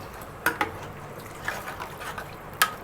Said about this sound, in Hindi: पाँच गिलास पानी के डाल दिए।